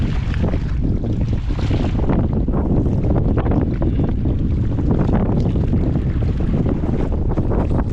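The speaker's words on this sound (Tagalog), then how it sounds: "Grabe ka hangin." Strong sea wind roars steadily against the microphone aboard a boat out on the water during a typhoon, with waves washing beneath it, loud and continuous throughout.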